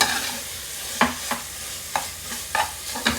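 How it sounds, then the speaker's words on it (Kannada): Masala sizzles in oil with added garlic in a pan for dal pulao. A steady frying hiss is broken by about six sharp stirring scrapes at an uneven rhythm, close and fairly loud, with no voices. "ಆಯಿಲ್ನಲ್ಲಿ ಚೆನ್ನಾಗಿ ಮಸಾಲೆನ ಫ್ರೈ ಮಾಡಿದಷ್ಟು ಬೇಳೆ ಪಲಾವು ತಿನ್ನಲಿಕ್ಕೆ ಚೆನ್ನಾಗಾಗತ್ತೆ"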